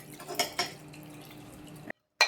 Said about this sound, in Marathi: चाळणीमध्ये नितळून असं घ्यायची व्यवस्थित